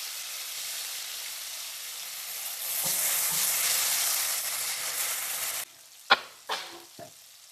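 Tomato sizzles hard in hot oil seasoned with cumin seeds, a loud, bright hiss that swells, holds for a few seconds, then cuts off, followed by a few sharp metallic clinks of a spoon against the pan.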